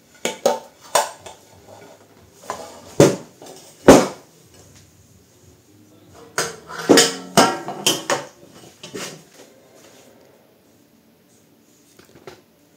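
A hot rustic apple tart with raisins and cinnamon is flipped in its baking dish, bringing several sharp clinks and knocks of dish and utensils in irregular bursts, close and fairly loud, with no talking.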